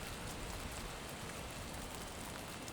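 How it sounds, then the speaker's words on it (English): Steady rain pattering on surfaces outdoors during an ice storm, a faint, even hiss with no other sounds over it. "It's raining right now."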